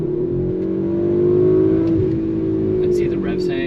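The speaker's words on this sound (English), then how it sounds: "and then listen to the exhaust now" A 2019 Audi RS5 Sportback in sport mode sends out a deep, steady exhaust drone that swells slightly as the revs hang, loud and close, with a voice speaking over it.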